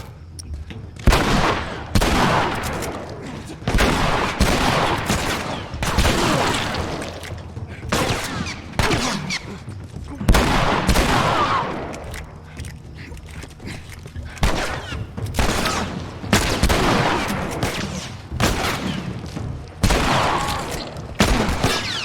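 Rapid bursts of gunfire from The Last of Us gameplay, dense volleys and single shots cracking repeatedly across the whole stretch, loud and close with brief gaps, some shots seeming to come from a distance.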